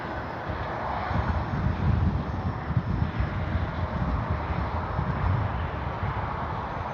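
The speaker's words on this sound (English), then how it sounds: "This wind has picked up even more now." Gusty wind buffets the microphone at an RC airplane flying field, a loud, steady low rumble that swells and eases with no other clear sounds.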